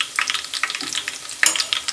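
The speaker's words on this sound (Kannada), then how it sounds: "ನೋಡಿ, ಬೆಳ್ಳುಳ್ಳಿ ಮತ್ತು ಚಿಲ್ಲಿನ ಒಗ್ಗರಣೆ ಹಾಕಿದ್ದೀನಿ" Garlic and two chillies sizzle in a hot oil tempering for chicken sukka, a lively crackling fry broken by repeated scraping strokes of a stirring spoon, close and clear with no talking.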